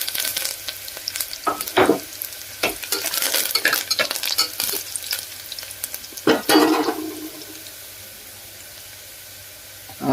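Onions and curry leaves frying in a pan for a brinjal curry, a steady sizzle broken by several sharp spoon scrapes and stirring clatters, close and fairly loud with no talking.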